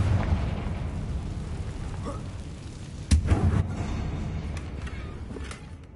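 A Confringo spell blast erupts into a sudden explosion effect, a short heavy boom with a crackling burst standing out above a steady low rumbling background.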